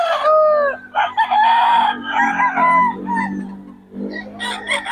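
Roosters for sale at the Bocaue market crow loudly and close, with overlapping cock-a-doodle-doos and clucks in quick succession.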